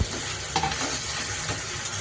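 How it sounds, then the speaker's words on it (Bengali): Rohu fish head with bitter gourd and potato sautéed in a pan with turmeric, salt and ginger-cumin paste, a close steady sizzle with a few light spoon scrapes. "উচ্ছে আলু মাছের মাথা দিয়ে সুন্দর করে কষিয়ে নিয়েছি"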